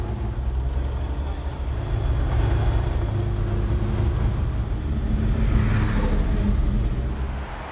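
A truck engine running on wood gas idles and drones steadily at close range, a dense low rumble with a broad hiss that swells and eases slightly, while a voice talks over it.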